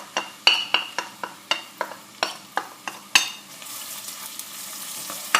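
Onion going into heated oil in a pot for a lentil and chicken stew, with a run of sharp, evenly spaced utensil clinks and scrapes against the pot, then a steady hiss of frying taking over near the end.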